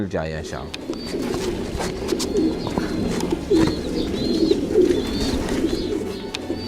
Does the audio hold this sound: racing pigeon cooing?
yes